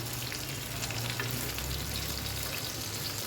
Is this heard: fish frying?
yes